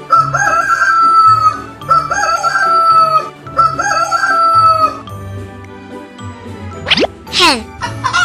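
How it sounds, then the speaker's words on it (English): A rooster crows in a children's animal-sound song: a short, rising cock-a-doodle-doo call near the end, set over bright, steady backing music with tinkling tones. "Rooster"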